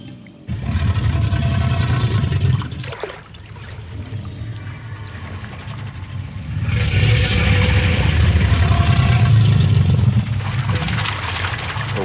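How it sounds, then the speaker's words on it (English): Water is thrown up off a crocodile's back during its water dance, a loud rushing splash that swells, briefly eases, then surges again in a sustained wash of spray. "The water is driven up off the back of the animal."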